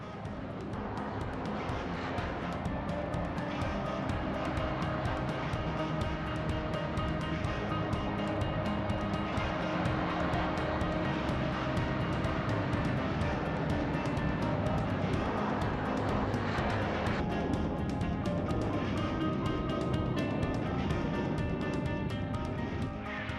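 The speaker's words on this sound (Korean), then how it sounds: "리더를 선두로 시속 250km로 활주로를 질주하는 8명의 조종사들." A T-50 supersonic jet of the Black Eagles aerobatic team roars steadily as it races down the runway for takeoff at about 250 km/h, a loud continuous engine rush over the whole stretch.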